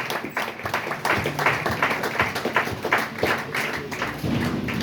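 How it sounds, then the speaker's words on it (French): A church congregation at a Sunday worship service in Brazzaville applauding, rhythmic clapping in a steady beat, loud and close, with a low murmur of voices underneath. "On acclame très fort la parole du Seigneur."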